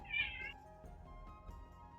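A cat gives a single clear, fairly close meow near the start. Faint household background noise and soft movement sounds follow.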